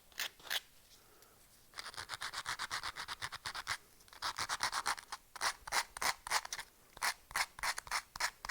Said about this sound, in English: Just sanding down some of these edges